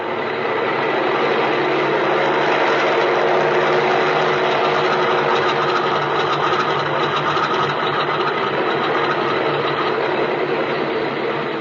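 A radio drama sound effect of an airplane engine running up for takeoff: a loud, continuous buzzing drone that stays steady and close for the whole stretch, with no voices over it.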